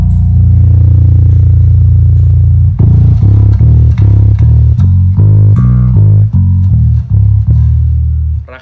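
A bass guitar with its low EQ knob turned all the way up plays a booming sustained low note, then a run of punchy, heavy plucked notes with a rattly attack, loud and close with no talking.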